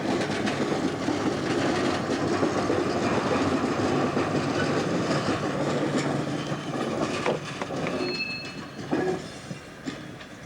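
A pair of BB 66000 diesel locomotives working in multiple on the Bourg-en-Bresse to Saint-Claude line, hauling a special wagon carrying a transformer, roll past with a steady loud rumble, clattering wheels and brief squeals, then ease slightly.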